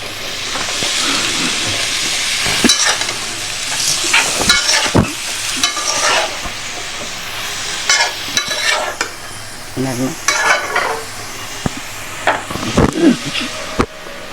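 Milk taro (dudh kochu) sizzles steadily in a pan alongside shing fish curry, with repeated sharp scrapes and knocks as it is stirred throughout.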